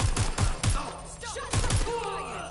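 Gunfire in the Watch Dogs: Legion video game cracks out in quick bursts of several close, punchy shots, followed by a short pause and another burst, with muffled game sounds between them.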